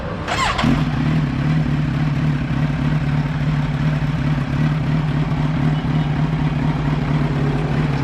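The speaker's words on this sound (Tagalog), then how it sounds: "Kailangan kong buksan yung motor." A Z1 1000cc motorcycle engine fires up with a quick burst, then settles into a steady, even idle that rumbles loud and close for several seconds.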